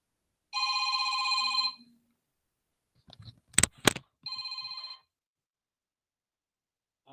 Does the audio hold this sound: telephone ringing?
yes